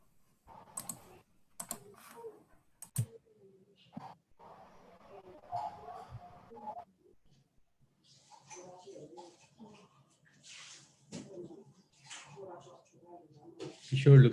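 Quick, irregular clicks of a computer keyboard being typed on in an office during an online conference call, crisp and close in short bursts before people start talking over a quiet background.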